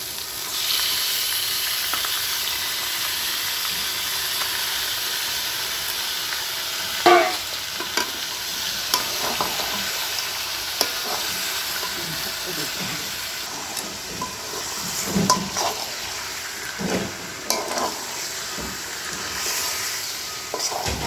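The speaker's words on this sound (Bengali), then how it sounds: "মশলা কষা হয়ে গেছে, তাই এখন মাংসগুলো দিয়ে দিচ্ছে।" Duck meat sizzles and hisses steadily after going into a spicy Bengali masala in a pan, with scraping stir strokes and occasional sharper clatters spread over the mix, no talk.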